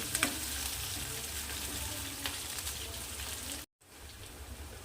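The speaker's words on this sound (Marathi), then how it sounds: "छान परतून घ्यायचा आहे लसणाला मिरचीला" Garlic and green chilies sautéing in hot oil in a pan, a continuous crackling sizzle with a couple of early clicks, cutting out briefly near the end before the sizzle resumes more quietly.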